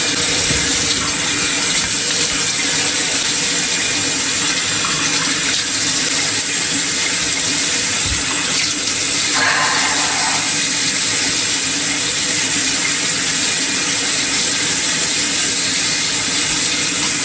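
Tap water pouring steadily into a bathroom sink during face washing, a loud constant splashing rush that stays level from start to finish, with no voices.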